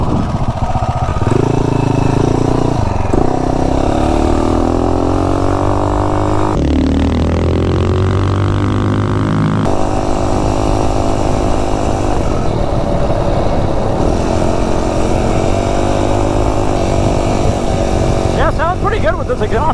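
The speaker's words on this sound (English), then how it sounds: "The dirt bike exhaust sounds fantastic." MM212 engine fitted with a custom intake and dirt bike exhaust runs steadily and loud throughout, a raspy buzzing drone that rises in pitch with revs and settles back to a fast idle.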